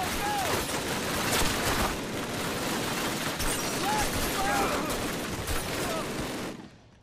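Dense MG42 machine-gun fire roars continuously in a Call of Duty World War II battle, loud and close, with brief whistling tones over the rattle before it cuts off at the end.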